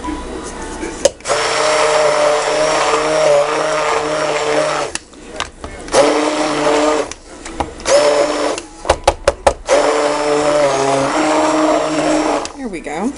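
An electric mixer whirs loudly and steadily as it blends goat's milk soap batter with oats for hot process soap, stopping briefly a few times with short clatters between runs.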